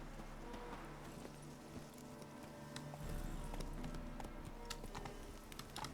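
Horse hooves clip-clopping at a gallop in the video game Witcher 3, a steady rhythmic patter of moderate loudness under game music, with no talk.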